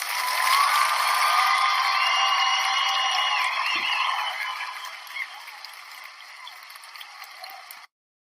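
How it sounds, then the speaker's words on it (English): Audience applause for a guest on a podcast, a dense, steady wash of clapping that is loud at first, eases to a lighter level, then cuts off abruptly. "Let's give Morgan a round of applause."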